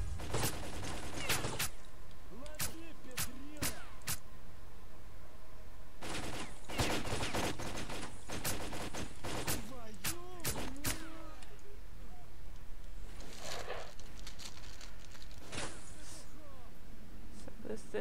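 Hostile stalkers fire on the player in the shooter game Lost Alpha, with repeated sharp bursts of gunfire in clusters and a few lone shots, moderately loud over a steady ambient background, with a voice occasionally underneath.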